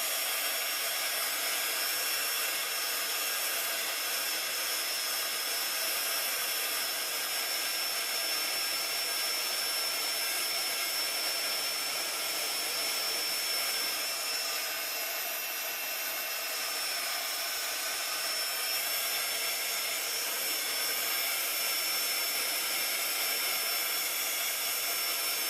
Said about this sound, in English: Use my heat tool again.